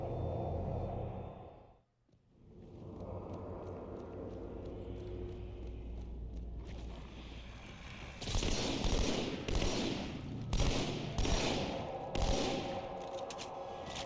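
Sustained gunfire in Halo 2, a steady rattle of continuous shots with louder, sharper bursts of rapid fire later, close and dense with no talking.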